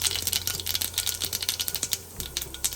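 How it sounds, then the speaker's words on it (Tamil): Mustard seeds crackling and popping in hot oil in a pan while tempering for Karnataka coconut rasam, a dense rapid series of sharp sputtering pops, close and continuous. "நம்ம வச்ச பேன் சுட்டெடுத்து கடுகு சேர்க்குறேன்"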